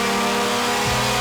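A supercharged Mazda Miata engine, fitted with a cheap aftermarket supercharger, revs hard on a dyno in a short, loud, steady burst whose pitch drops near the end.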